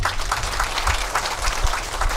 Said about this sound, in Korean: 우리 저분들에게 박수 한번 크게 보내주시기 바랍니다